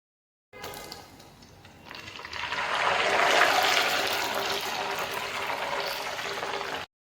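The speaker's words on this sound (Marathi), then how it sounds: "पाणी घातल्यानंतर असा तडतड आवाज यायला हवा" Half a spoon of cold water hits hot homemade cow ghee, bursting into a rising, sustained crackling hiss that stays loud and even for several seconds before stopping abruptly.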